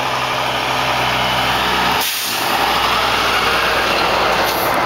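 Trucks drive along a beach road in Canada, a loud, close rumble of heavy engines with a brief dip midway before another vehicle's roar builds again, steady and dominant throughout.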